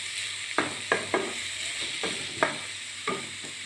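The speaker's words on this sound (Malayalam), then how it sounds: "സവോള നന്നായിട്ട് ഇളക്കി കൊടുക്കുക." Sliced onions fried in a pan and stirred with a utensil, giving a steady sizzle broken by several sharp scraping strokes at irregular intervals, close and fairly loud with no speech.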